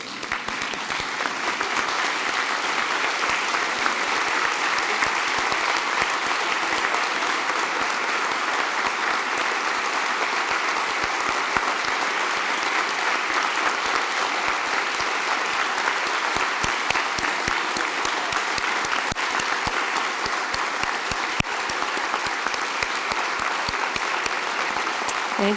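Award recipients at a VCU opening faculty convocation draw a long, steady round of applause from a large seated audience, with dense, even clapping that continues for about half a minute.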